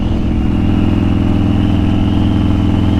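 Motorcycle engine droning steadily while riding, a loud, constant mid-pitched hum with a pulsing low rumble and no change in pace.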